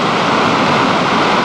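Floodwater from Cañada Larga Creek rushing down its channel during the February 1998 Ventura River flood, a steady, loud broadband roar of churning water with no pauses.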